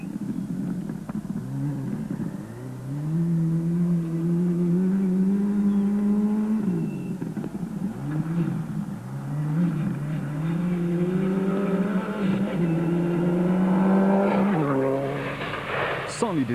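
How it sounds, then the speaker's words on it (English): Subaru Impreza WRX rally car at speed on a rally stage, engine droning loudly and continuously with rising and falling pitch through gear changes, while a voice talks over it. "Fisser du Plessis' creepy-crawly Subaru Impreza WRX was still nearly 20 seconds off Ryan's pace."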